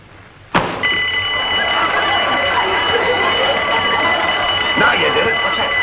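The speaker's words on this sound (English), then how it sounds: "That was a burglar alarm." A burglar alarm abruptly starts ringing, a loud steady electric bell that continues without a break, heard close up in an indoor comedy scene.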